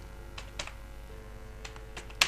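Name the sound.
typing on a computer keyboard into a browser search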